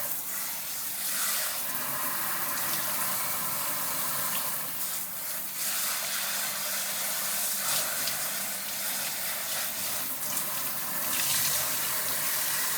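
Cold tap water runs steadily over freshly churned homemade butter made from cream as it is washed, a continuous close splashing rush with slight swells, no talking.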